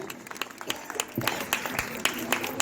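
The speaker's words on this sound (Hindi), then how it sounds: "ताली बजाओ भाई, ताली तो बनती जोरदार है" Audience at a Ramlila stage event in a housing society applauds children, scattered irregular claps building into a fuller clatter with faint voices underneath.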